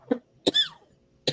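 Three dry coughs from one person nearby, the first short, the second longer and rasping, and a final one after a brief pause, with no talking.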